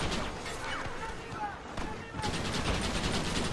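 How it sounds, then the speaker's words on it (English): Gatling gun fire in the Red Dead Redemption western game, with rapid bursts of gunfire and then a dense, sustained rattle of shots toward the end, mixed with other game sound. "I like this Gatling gun."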